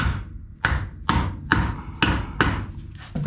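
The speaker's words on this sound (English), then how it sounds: "I just need to hammer that in place" Six sharp hammer blows strike a bushing as it is driven into the frame of a Buick Wildcat during a body-on-frame auto restoration, landing at a steady rhythm about every half second. The hits are close and ringing.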